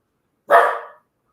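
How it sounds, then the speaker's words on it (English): A single sharp dog bark, close and loud, standing alone against silence. "I just got a puppy."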